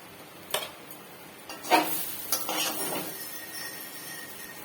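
Gobindobhog rice being fried with a little sugar in a pan, stirred with a few sharp scraping clacks of a utensil over a steady soft sizzle, close and fairly loud.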